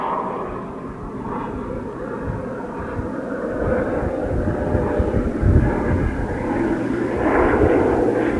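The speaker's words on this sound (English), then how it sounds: "piercing sound. It's from a plane." A propeller airplane drones overhead at a distance during an outdoor safari, a continuous low rumble that slowly swells in loudness with no talking.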